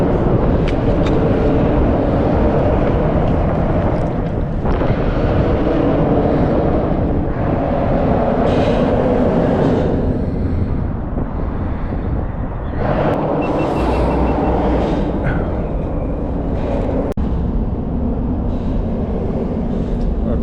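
Constant roar of Interstate 10 highway traffic, a broad rushing noise with occasional louder swells as vehicles pass nearby.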